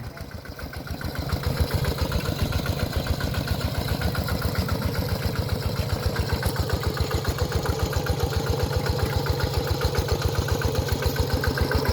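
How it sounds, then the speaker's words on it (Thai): Walk-behind tractor pulling a two-disc plough in a rice field, its single-cylinder engine chugging in a fast, even, loud pulse close by, picking up slightly after the first second and running steadily. "เรียกว่ารถไถ"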